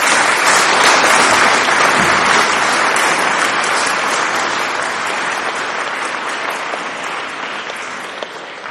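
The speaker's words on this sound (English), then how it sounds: "So would you please give me a round of applause?" Sustained, loud applause from a school audience during a headmaster's speech and medal presentation, a thick crowd clapping that holds strong and gradually eases over about nine seconds.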